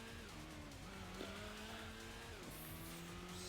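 Racing car engine from the Gran Turismo game, a TVR Griffith 500, revving steadily with gear-shift pitch drops and brief tire squeal, loud and continuous with no talk.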